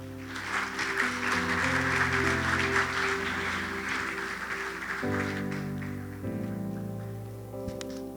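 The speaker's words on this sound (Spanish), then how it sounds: "Dele un fuerte aplauso al Señor." A church congregation applauds in a steady, broad wash of clapping over sustained keyboard chords, the clapping easing slightly toward the end.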